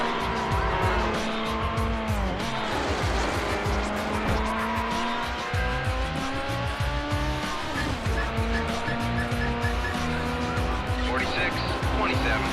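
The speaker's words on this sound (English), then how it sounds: "high-speed pursuit. Vehicle is a silver McLaren" A silver McLaren F1 races in a police chase in Need for Speed Hot Pursuit 2, its engine roaring steadily as tires squeal and skid through corners, with radio chatter over the constant loud driving noise.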